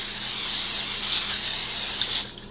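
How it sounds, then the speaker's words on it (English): Cooking spray hisses from an aerosol can onto grill grates lined over a baking sheet, one steady close spray lasting about two seconds before cutting off. "gonna spray our grates here with some cooking spray"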